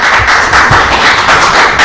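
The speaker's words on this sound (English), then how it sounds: "Please hold your applause." Loud, dense applause from a crowd at a city council meeting, a brief burst of many hands clapping close by.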